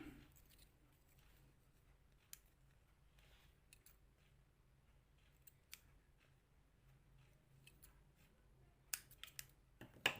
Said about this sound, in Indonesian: Terus kelebihan dari karetnya digunting biar rapi.